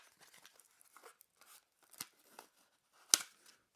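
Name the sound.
clear plastic tray sliding out of SanDisk card packaging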